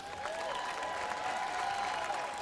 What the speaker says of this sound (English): Another round of applause, everybody.